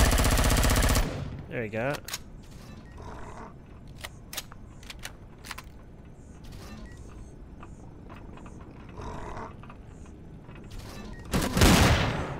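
Automatic gunfire from a weapon in the video game Empyrion, a loud sustained burst at the start followed by scattered sharp single shots and a final heavy burst, with a voice talking briefly in between.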